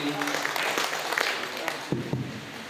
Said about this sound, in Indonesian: Mari kita berikan tepuk tangan yang meriah untuk Bapak Dr. Jamaluddin Andi